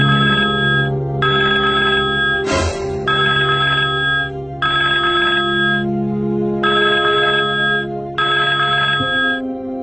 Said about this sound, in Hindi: नागपुर में चारों ओर फोन की घंटियां बज उठी।